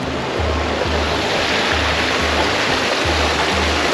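Ellagala waterfall in Sri Lanka, a loud, steady roar of rushing water, continuous and close, with a faint rhythmic low thrumming underneath and no voices.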